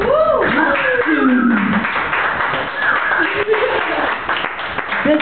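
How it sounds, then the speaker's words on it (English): Audience applause at a burlesque and variety operetta show, a broad wash of clapping running throughout with a voice talking loudly over it. "I appreciate the applause."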